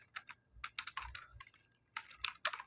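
Computer keyboard keys being typed while entering C++ code, quiet bursts of rapid clicks in uneven clusters with brief pauses between them, no talking.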